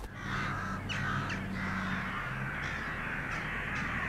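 Crows in a large autumn winter flock caw repeatedly, harsh calls overlapping at moderate distance over a steady outdoor background hum.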